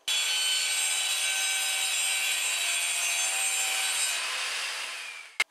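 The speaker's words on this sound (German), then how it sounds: "Deswegen machen wir uns das Leben einfacher und machen den Rest jetzt mit der Handkreissäge." Handheld circular saw cutting a wooden board along a guide rail, a steady loud whining cut lasting about five seconds that tapers off, followed by a brief sharp knock at the end.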